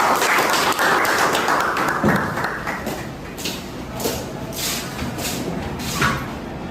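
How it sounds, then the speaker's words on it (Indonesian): An audience at a hotel-hospitality service event welcomes a speaker with continuous clapping that starts full and busy and slowly softens, with a few scattered louder claps near the end. "Beri tepuk tangan yang meriah."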